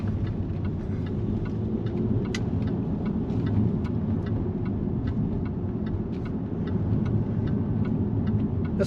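A Jaguar XF S (X250) accelerates hard in manual dynamic mode, its engine a steady low in-cabin roar with faint ticking over the top, heard from inside the car without talk.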